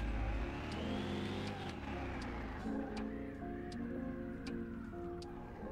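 Engine of a Camaro in Car Mechanic Simulator 2021, a barn-find catfish-generation car, droning steadily as it drives and revs, with pitch rising then settling, loud and close throughout.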